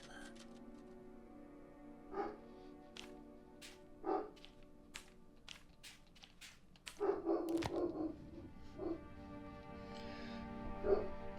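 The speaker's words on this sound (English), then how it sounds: "That's my dog barking." A dog barks in separate bursts, a few seconds apart, then a quicker cluster of barks, moderately close over a steady low hum.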